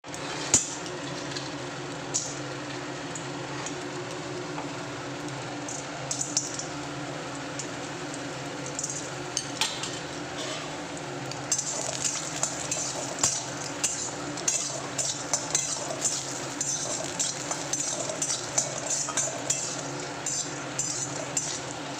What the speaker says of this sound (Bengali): এখন বড়িগুলোকে আমি ভেজে নেব